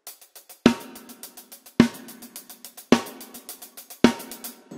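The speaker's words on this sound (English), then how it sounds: "So the hi-hat and the snare drum is sounding like this." Hi-hat ticks in an even run, punctuated by four loud snare cracks at regular intervals, the pattern from a song, clear and close with no other sounds.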